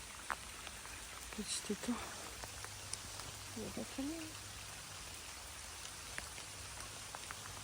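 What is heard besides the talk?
rain falling by a small pond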